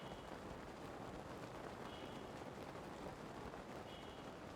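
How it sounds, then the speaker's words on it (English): Rain in the video game Breath of the Wild, a steady, faint hiss of drops falling on surfaces, unbroken and even throughout with no talk. "Oh my god, it's raining."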